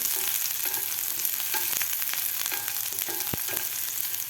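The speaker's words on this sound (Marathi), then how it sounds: "तेल आपलं गरम झालेलं आहे तर यामध्ये घालायचं आपल्याला कापून घेतलेला कांदा आता कांदा आपल्याला एक ते दीड मिनिट व्यवस्थित परतून घ्यायचा आहे" Coarsely chopped onion frying in hot oil for a vegetable cheese masala Maggi, a loud, dense sizzle that fills the whole stretch, with light stirring knocks and scrapes mixed in and no speech.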